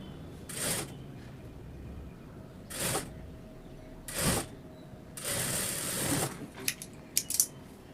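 A sewing machine stitching a chudidar sleeve, short bursts of rapid mechanical clatter, four or five runs separated by quiet pauses, ending with a few sharp clicks, heard close without talk.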